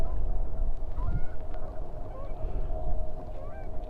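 Birds call at Newport Back Bay, a coastal bay, with scattered goose-like honks and short cries over constant low outdoor rumble and wind, some fairly near and others more distant.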